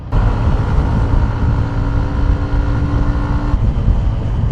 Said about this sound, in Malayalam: അറ്റ് എക്സ്ട്രീം ഹൈ RPM എത്തുമ്പോഴേക്ക് എൻ്റെ എക്സോസ്റ്റോട്ട് മാറുന്നുണ്ട്, കുറച്ചും കൂടി അഗ്രസീവ് ആവുന്നുണ്ട്